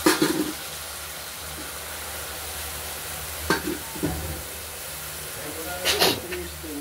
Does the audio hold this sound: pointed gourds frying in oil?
yes